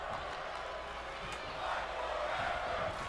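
An arena crowd in the WWE 2K22 wrestling video game roars and cheers in a steady, dense wash that swells slightly toward the end, with a commentator talking over it.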